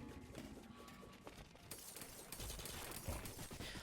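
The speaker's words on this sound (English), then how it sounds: "Fireworks, let's go." Rapid crackling bursts of fireworks in a video game after a boss is beaten, a dense popping barrage that grows louder partway through, with no talking.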